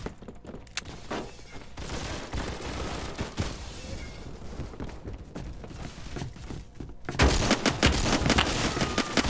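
SKS rifle fire in the Roblox game Phantom Forces: a quick run of sharp, punchy game gunshots with thumps and movement sounds between them, ending in a louder, denser burst of firing.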